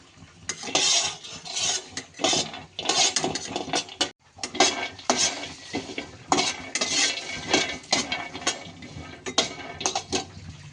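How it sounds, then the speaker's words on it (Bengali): Raw peanuts are dry-roasted in a kadai, with a spatula scraping and stirring in repeated bursts, a rattling of nuts against the metal and a light sizzle, close by and without speech. "কড়াইতে প্রথমে কাঁচা বাদামগুলো একটু ভেজে নেব।"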